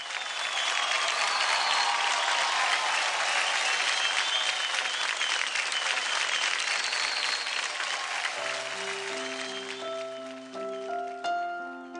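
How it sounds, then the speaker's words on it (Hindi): A television singing-competition audience gives loud, sustained applause to welcome a singer, then the clapping fades as sustained instrumental music tones begin near the end. "जोरदार तालियां।"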